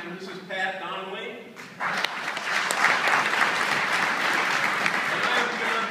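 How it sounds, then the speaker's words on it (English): Audience at a live jazz trio concert breaks into steady applause that swells and holds for several seconds, following someone speaking over the room. "I don't need applause"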